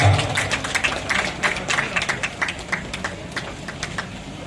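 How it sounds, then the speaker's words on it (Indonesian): At a Pancasila Day kenduri ceremony in Blitar, a crowd claps in uneven bursts, with individual claps standing out close by over a murmuring background. "tepuk tangan luar biasa"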